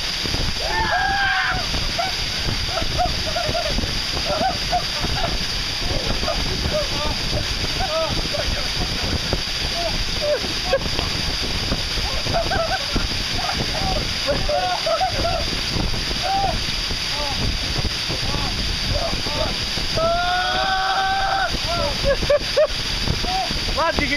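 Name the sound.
waterfall pouring onto stag party, power shower splashing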